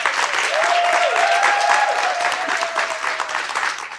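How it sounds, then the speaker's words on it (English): Audience applause at a DM5 Incorporated Women's Month celebration, a dense, steady wash of clapping that holds loud for four seconds, with a faint whistle-like tone gliding through the middle. "I want it to be a resounding applause to DM5 for their time that they have spent building this girl"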